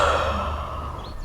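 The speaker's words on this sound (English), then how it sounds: "And now exhale" A slow, steady exhale of breath during a 4-7-8 breathing exercise, close and breathy, lasting the whole moment with no speech.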